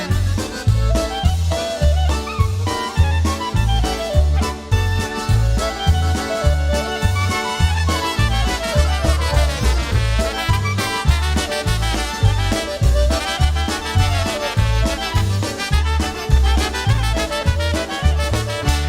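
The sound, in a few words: polka band music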